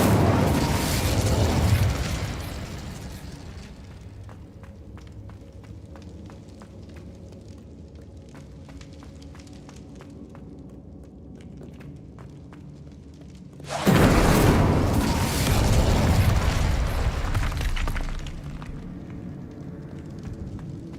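Two loud, roaring fiery blasts from fire spells in Hogwarts Legacy, one at the start and another about two-thirds through, each rumbling and crackling before fading into a quieter ambient lull.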